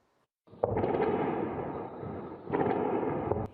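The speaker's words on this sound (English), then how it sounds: "Air defense system interceptions over Tel Aviv Friday as missiles lit up the night sky amid Iran's counterstrikes" Air defense interceptions of Iranian missiles over Tel Aviv at night: loud, sustained rumbling blasts that roll on continuously, swelling again in a second surge partway through.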